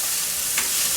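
Diced celery, red and green peppers and onion fry in vegetable oil in a pan, giving a close, even sizzle with a light stir.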